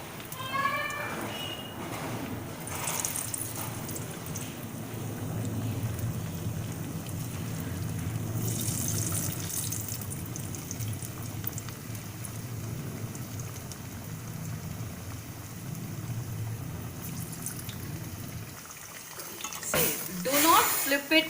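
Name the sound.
dal vada dropped into hot oil and frying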